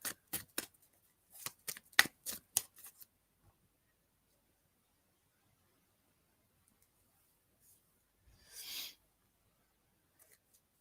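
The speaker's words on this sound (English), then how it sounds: "Oops, trying to throw cards again." Playing cards flicked and thrown in quick succession, a run of sharp papery snaps and slaps close by, then quiet with one brief rustle later.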